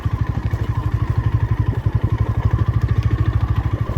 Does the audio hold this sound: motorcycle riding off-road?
yes